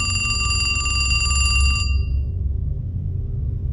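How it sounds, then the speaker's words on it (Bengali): A telephone bell rings loudly and continuously for about two seconds and then cuts off abruptly, leaving a low background rumble. "আমার কাছে উমেশের ফোন এলো।"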